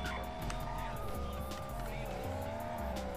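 A drag race car launches with a sustained, loud tire squeal over a rising engine note that wavers in pitch. Tire smoke pours off as the launch runs unbroken and close.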